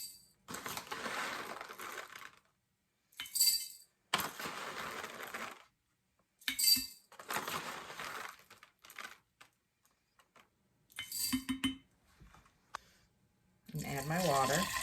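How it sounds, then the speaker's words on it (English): Dry lentil seeds, about four tablespoons, poured into a 64-ounce glass jar, giving several separate rattling, pattering bursts with short silent gaps between them, close by. "For the 64-ounce jar, I'm going to put in 4 tablespoons of seeds."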